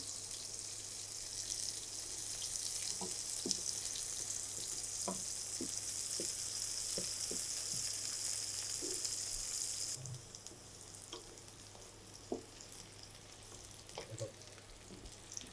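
Six or seven garlic cloves go into hot oil for a pointed gourd (parwal) dal, giving a steady bright sizzle with a few light clinks of a utensil, and the sizzle thins out partway through.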